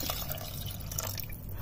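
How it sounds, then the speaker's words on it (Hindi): Water poured into a pressure cooker over rice and lentils, a steady close liquid trickle with dripping, alone. "अब दोस्तों, सब सामान डालने के बाद हम पानी डालेंगे।"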